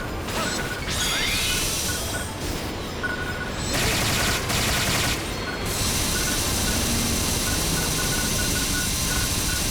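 Sustained automatic gunfire from the online action game Phantasy Star Online 2, a dense, loud stream of shots with clanking impacts and mechanical effects. It barely lets up across the whole stretch.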